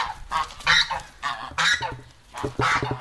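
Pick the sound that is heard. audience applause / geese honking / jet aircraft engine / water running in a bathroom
geese honking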